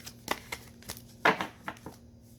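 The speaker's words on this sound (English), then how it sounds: "when I shuffle and cards get thrown out, they slip out or whatever" A deck of Game of Thrones tarot cards is shuffled by hand, giving a quick run of close, papery riffles and flicks with one louder burst of slapping cards in the middle.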